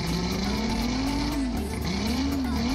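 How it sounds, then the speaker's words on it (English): Outboard boat motor revving in gear after its vapor separator tank has been cleaned, a steady close engine drone with a pitch that climbs, dips briefly, then rises again, heard alone throughout. "rev it up to see how it sounds"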